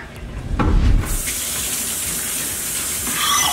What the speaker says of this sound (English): now we're gonna take our bones and we're gonna rinse them off.